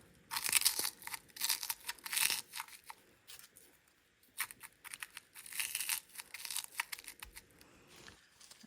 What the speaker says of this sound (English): I'm just gonna put in these little extra pieces to fill in the bottom part. Just gonna crunch them in there.